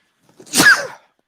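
A single sharp sneeze bursts out close by, brief and loud, with silence before and after.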